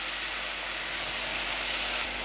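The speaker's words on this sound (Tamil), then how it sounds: "இப்போ லேசாக அதில் தண்ணி விட்டுக்கலாம்." Water poured into potato masala frying in a hot pan gives a steady, close hissing sizzle that holds evenly throughout, with no talking.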